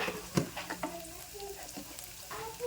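Coriander leaves and other ingredients for aloo bhaji are stirred in a frying pan over a medium gas flame, with a soft sizzle beneath clinks and scrapes of a spoon, close up and without talk.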